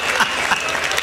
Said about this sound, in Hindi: ताली वाली बजा सकते हो यार इस बात में?